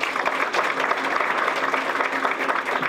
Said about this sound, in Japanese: ご賛同の拍手をいただきましたので